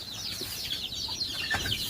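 Chickens and chicks in a coop during rainy weather give soft, high peeping chirps and a few low clucks, fairly faint and close.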